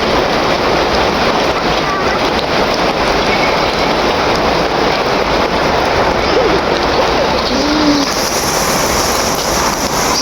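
Heavy rain pours down in a loud, continuous wash of noise that never lets up, with faint voices barely audible beneath it.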